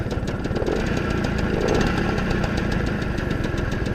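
A 1997 Peugeot 103 RCX LC liquid-cooled moped, just kick-started and still lukewarm, runs with a fast, rattling two-stroke putter, held on a little throttle, loud and close, steady throughout with no talking.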